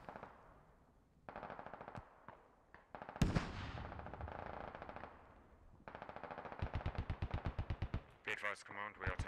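Gunfire crackles in the military shooter Squad: scattered single shots, then rapid, loud bursts of automatic machine-gun fire at close range, mixed with voices talking over radio comms.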